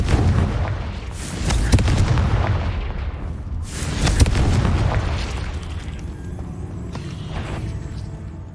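Confringo spell blasts in Hogwarts Legacy set off two loud, booming bursts about two and a half seconds apart. Each is followed by a rumbling decay, and faint scattered effects trail afterward. No voices are heard.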